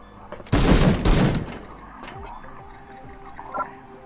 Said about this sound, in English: Saturation fire.